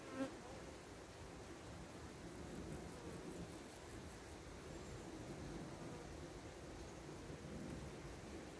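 Honey bees from a colony founded this year drone steadily at an opened hive, a dense, continuous buzzing hum that holds at an even, moderate level throughout with no talking.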